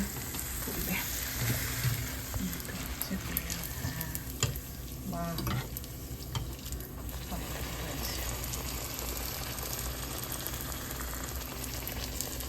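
Puris for Kolkata-style fuchka fry in hot oil, a continuous close bubbling sizzle lasting throughout, with occasional utensil clicks and faint movement in the background.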